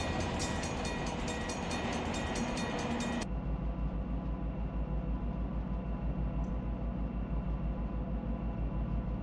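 A freight train of autoracks runs on the Mojave line toward Needles in the Run 8 train simulator game, a steady rumbling roll of cars with a continuous low drone and no speech.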